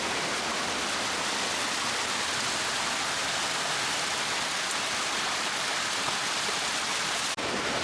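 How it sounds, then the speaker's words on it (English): Heavy rushing waterfall swollen after lots of rain, a steady, dense roar of falling and flowing water close by that fills the whole clip with no voices, ending in a brief knock. "There's water flowing everywhere, but we have had a lot of rain, so I knew this would be spectacular."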